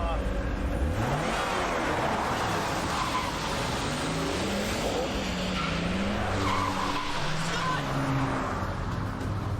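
A car swerves and skids toward a curb, with loud tire squeal and engine revving. The sound is continuous and close, and muffled voices run underneath.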